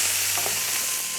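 Chopped celery and other vegetables sautéing in a pan for a Thanksgiving dish, a steady soft sizzle and light frying hiss throughout with no talking.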